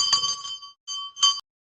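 Hand bell rung during a Hindu lamp offering ritual, three bright metallic rings in quick succession, the first and last strongest, each with a short clear ringing tail and no voices.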